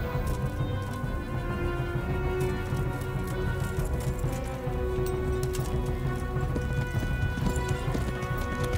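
Rapid hoofbeats clatter steadily over a constant game soundtrack hum, a horse galloping without pause in Kingdom Come: Deliverance, with faint rain-like patter mixed in.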